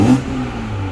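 Toyota Supra MK5 with an AMS downpipe revving in stock exhaust mode, a loud close engine rise that settles into a steady droning exhaust note, heard alone.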